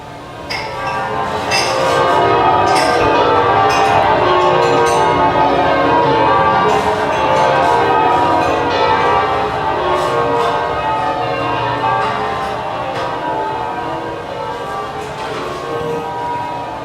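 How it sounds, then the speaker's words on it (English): City warning bells ringing continuously for an evacuation, a dense overlapping clangor with bright strikes standing out, loud and sustained for the whole stretch. "The bells you hear are ringing to warn the people to evacuate the city"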